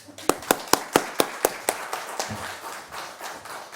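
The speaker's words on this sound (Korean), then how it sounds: "나오실 때 박수 한번 쳐드려요" At a church service, sharp, evenly spaced claps ring out at a brisk beat, then blur into looser, overlapping applause from several people that trails off.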